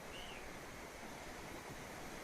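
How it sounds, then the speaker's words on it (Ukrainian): Calm, quiet ocean surf at an open ocean beach near Cronulla, a soft, even wash of low noise with no distinct breaking waves, faint and steady throughout. "Океан сьогодні тихий, спокійний."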